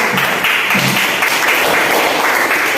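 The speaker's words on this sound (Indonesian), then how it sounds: "Tepuk tangan dulu untuk kelompok 3" Students in a classroom clap for a group that has just presented, a loud, dense and steady wash of clapping with no talking over it.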